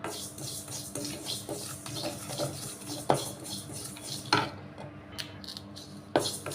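A quarter cup of black sesame seeds is lightly dry-roasted in a pan, with a continuous soft rustling scrape of stirring broken by occasional sharper clinks of the utensil against the metal.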